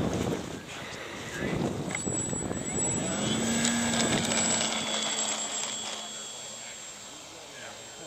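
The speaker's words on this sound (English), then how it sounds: "I did a scale takeoff for you." An RC F4U Corsair scale model airplane takes off, its motor whine building and holding steady at a moderately close distance, with a rising tone and wind noise over several seconds.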